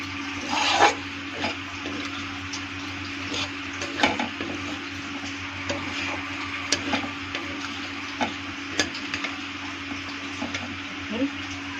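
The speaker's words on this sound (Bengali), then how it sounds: "এখন ভালো করে নাড়িয়ে চালিয়ে নেব।" Food being stirred in a pan while cooking, after a spoonful of garam masala goes in, with scattered scraping and tapping of a utensil over a steady low hum at moderate level.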